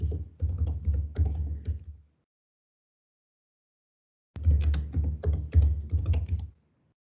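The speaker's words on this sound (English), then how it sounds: "I'm going to type in Brookvale Primary School." Fingers tap a computer keyboard in two quick runs of close, crisp keystrokes, separated by a couple of seconds of silence.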